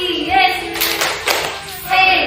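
Rhythmic group clapping in a school classroom setting for the 'tepuk semangat' chant, short bursts of claps separated by pauses, with voices chanting along between them.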